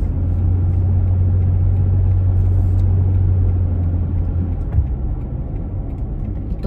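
A truck passes nearby outdoors with a loud, steady low engine rumble and hum that holds for several seconds, then fades into a rougher background roar.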